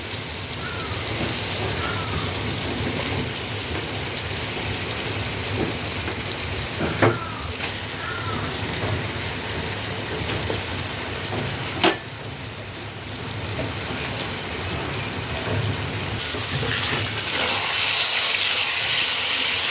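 Chicken pieces frying in spiced oil in a pan, a steady dense sizzle filling the whole stretch, close and fairly loud, with a couple of sharp utensil clicks partway through and the hiss swelling near the end.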